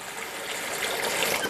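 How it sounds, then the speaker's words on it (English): Water poured into a crock pot over a frozen buffalo hump roast, a steady close-up rushing and trickling wash that holds level throughout, with no voices. "You put in enough water to cover the roast."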